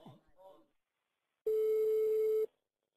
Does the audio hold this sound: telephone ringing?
yes